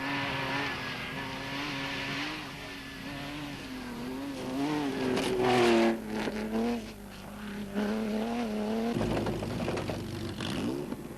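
A Lada Samara rally raid prototype with a Porsche engine drives steadily, its engine droning and rising in pitch through gear changes, heard continuously without talk.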